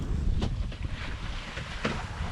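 A sailboat heads across the open Pacific from Mexico toward French Polynesia, with a steady rush of wind and water around the hull, buffeting wind noise on the microphone and a few brief splashes.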